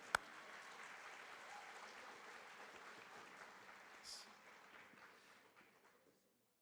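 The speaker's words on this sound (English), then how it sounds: "you guys can clap in between these" Audience applause at a high school mid-year graduation ceremony, a faint, distant spread of clapping that holds steady and then thins out and fades to silence.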